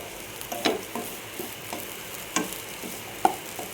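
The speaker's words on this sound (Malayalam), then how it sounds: "ഒരു മിനിറ്റ് നന്നായി ഇളക്കി കൊടുക്കാം." Chinese potato (koorka) thoran with a pinch of pepper powder being stirred in a frying pan, giving faint scattered scrapes and clicks over a soft, low sizzle.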